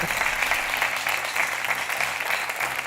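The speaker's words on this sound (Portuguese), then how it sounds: "O vosso aplauso para o António Matos!" Studio audience applause on a TV game show, a steady dense wash of clapping heard alone throughout, moderately distant.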